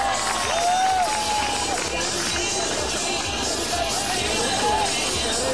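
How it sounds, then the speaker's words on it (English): Audience at a university fashion show in Karachi applauding and cheering, a dense steady crowd noise with shouts and whistles running throughout at a loud, constant level. "Give a hand of applause to yourself."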